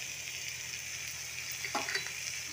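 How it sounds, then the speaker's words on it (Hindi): Spice masala of turmeric, red chilli powder, cumin, coriander and garam masala with a little water and gram flour frying in a pan for okra curry, a steady soft sizzle with a couple of brief stirring scrapes near the end. "हमारा मसाला भून रहा है, लगभग 5-10 मिनट लगेगा भूनने में"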